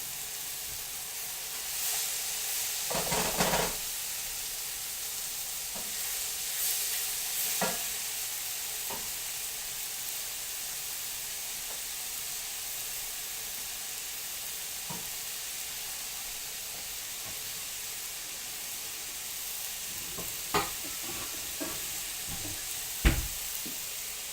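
Vegetables browning in a hot pan, sizzling steadily and close by, broken by occasional clattering stirs and scrapes, with a cluster of louder stirring knocks near the end.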